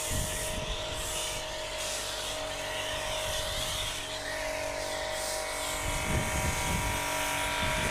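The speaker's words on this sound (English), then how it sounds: "We're just going over now with a nice layer of the snow foam combo 2" A foam cannon sprays a layer of snow foam combo onto a car during an exterior pre-wash, giving a loud, continuous hissing roar with a steady pump drone underneath, close and unbroken for the whole stretch.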